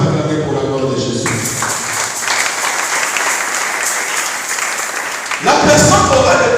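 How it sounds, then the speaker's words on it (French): A church congregation breaks into loud, sustained applause and cheering for the glory of Jesus, the clapping swelling again near the end while a voice speaks over the start. "Est-ce qu'on peut acclamer pour la gloire de Jésus?"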